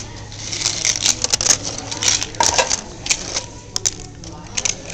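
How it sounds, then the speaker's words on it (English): Dice and pieces clatter and tap on a table during a pirate ship tabletop game, a run of small sharp clicks and rattles at close range with low voices murmuring underneath. "let me get the dice out"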